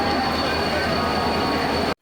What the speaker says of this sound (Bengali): আমাদের ট্রেনটা ঢুকছে